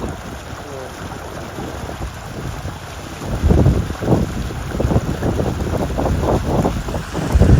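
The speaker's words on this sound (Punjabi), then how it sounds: "ਹਵਾ ਬਹੁਤ ਜ਼ੋਰ ਦੀ ਹੈ" Steady, heavy wind buffeting the microphone outdoors, with a low rumble and rushing gusts that grow stronger toward the end.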